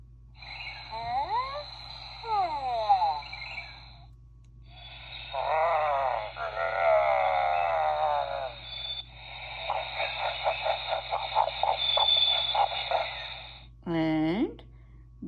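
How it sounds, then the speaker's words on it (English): A Stegosaurus dinosaur sound effect for a children's animal-sounds sequence: several bursts of groaning, snorting creature calls with wavering growls and rapid pulsing, ending in a short rising cry, all close and fairly loud. "This is the sound of Stegosaurus."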